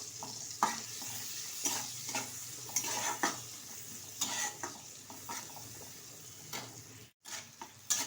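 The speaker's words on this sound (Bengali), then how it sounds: "তো ভালোভাবে পেঁয়াজটা ভেজে নেব।" Onions frying in a pan for a prawn, potato and aubergine curry, a steady sizzle with repeated spoon stirs and scrapes. A short silent break comes near the end.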